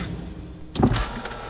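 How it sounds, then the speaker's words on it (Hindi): Car power window opening, a short whirring motor sound that starts abruptly and runs steadily for under a second, close and clear inside the vehicle. "ये कांच कैसे खुलता है? खोल दीजिए ना शीशा।"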